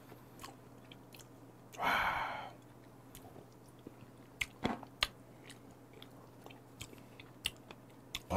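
Someone eats sweet raw shrimp and sea urchin with quiet, close chewing and soft wet clicks, broken by one louder, longer burst of mouth noise near the start.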